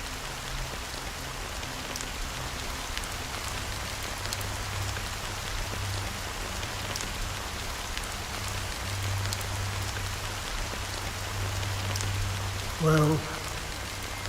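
Steady rain falls on a surface in a scene from the video game Honkai: Star Rail, a constant soft hiss of drops throughout, with a brief voice near the end.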